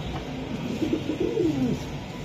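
Baghdadi pigeons coo close by, a run of low rolling coos rising and falling in the middle of the stretch, clear over a steady background hum with no talking.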